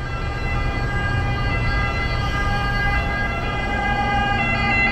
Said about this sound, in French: Ah tiens, les pompiers.